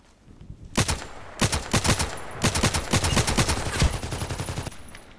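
Series of sharp gunshots in the video game Contract Wars, fired at long range, loud cracks in uneven clusters of two or three with short gaps between volleys.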